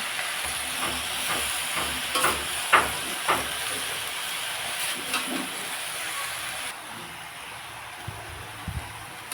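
Telakucha leaves and vegetables cook in hot oil, giving a steady close sizzle and hiss. Scattered clacks and scrapes come from stirring, and a voice speaks faintly near the end.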